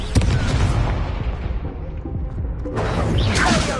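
Confringo and Incendio spell blasts in Hogwarts Legacy burst out as loud, close booms with fiery whooshes, a sharp hit at the start, rumbling through the middle and a crackling flare near the end.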